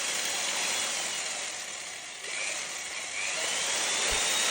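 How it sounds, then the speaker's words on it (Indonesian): An electric mixer of the kind used for martabak batter churns an ice pack gel mixture in water, a loud continuous whirring drone that dips slightly midway and holds steady. "Ini suara mixernya lumayan kencang ya teman-teman."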